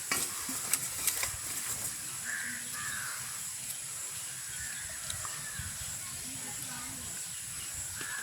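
Banana paniyaram frying in oil in a pan in a village kitchen, with a steady soft sizzle running throughout and occasional small clinks, the bubbling held low and even.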